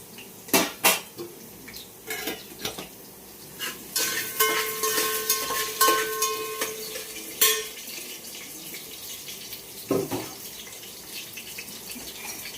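Cauliflower and carrots are sautéed in a pan for a vegetable pulao, heard as irregular clinks and scrapes of a metal spoon against cookware over a soft background, with no one talking.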